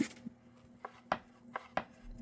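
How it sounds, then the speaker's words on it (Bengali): A knife chops raw green banana into small pieces in about six sharp, close, irregularly spaced cuts, with quiet gaps between strokes. "একেবারে এরকম ছোট ছোট করে কুচি কুচি করলাম"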